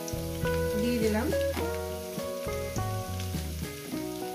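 Potatoes with turmeric frying in a pan, a steady close sizzle heard beneath a loud tonal musical backing that largely dominates.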